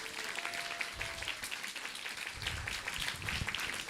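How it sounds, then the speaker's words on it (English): Applause from an audience at a Vyasa Puja ceremony, steady clapping spread across the hall at moderate loudness, with low thumps and a faint voice briefly underneath. "Again, another big round of applause."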